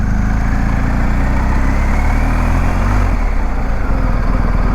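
A BMW R1250 GSA motorcycle engine idles steadily and loudly up close while the bike is being parked, with a constant low rumble and no talking.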